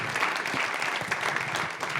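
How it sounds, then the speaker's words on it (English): An audience applauds warmly, a dense, steady wash of many hands clapping at once with no voices over it. "Round of applause for everybody."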